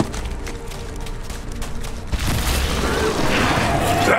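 Shots fired at a crystal in the video game Borderlands 3, with a steady run of gunfire bursts giving way to a loud, dense booming roar that keeps going to the end.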